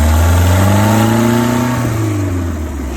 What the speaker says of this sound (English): As you can see, it runs fine. It idles up pretty good.